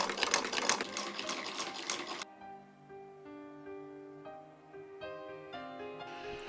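Sewing machine running in a dense, rapid burst while stitching a fabric strip for a Sami luhkka garment, cutting off after about two seconds as soft music continues alone.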